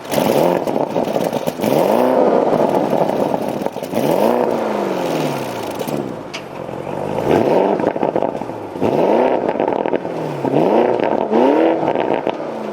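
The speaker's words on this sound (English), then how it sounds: "down below we have the quad style sports exhaust" A 2020 Porsche Cayenne Turbo Coupe with a quad sports exhaust revs repeatedly in loud, rising and falling bursts, about five throttle blips with brief settling between them and no voices.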